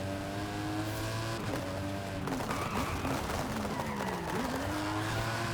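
A classic Continental car pushed hard through a corner in Forza Horizon 5, its engine droning with shifting pitch while tires scrub and squeal, steady and close throughout.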